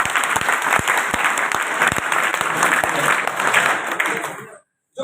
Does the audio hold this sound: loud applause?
yes